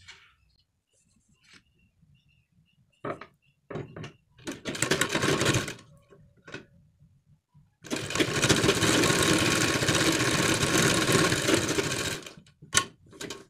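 Sewing machine stitching over a seam on a garment collar neck, heard in short stop-start bursts of rapid clatter and then one long continuous run, with brief pauses and a few clicks near the end.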